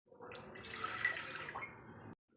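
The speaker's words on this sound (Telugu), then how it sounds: "మూడు కప్పులు వాటర్" Water poured from a cup into a pot on the stove, a close, continuous splashing pour lasting about two seconds before stopping abruptly.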